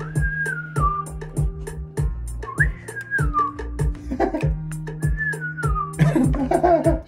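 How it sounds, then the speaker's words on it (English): A person whistles a repeating melody, clear and close, over a steady rhythmic beat with bass and percussion. "The whistling sounds like."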